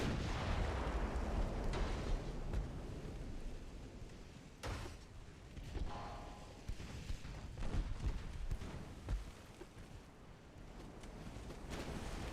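Naval shells striking a ship in the warship strategy game Ultimate Admiral Dreadnoughts, heard as heavy rumbling blasts and sharp cracks over a dense, roaring battle background, with no talking.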